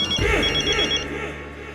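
A telephone rings with a steady, repeating electronic tone in a domestic comedy scene, loud and close with no voices over it.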